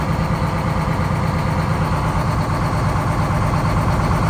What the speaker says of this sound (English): Let that motor on, circulate that oil real good.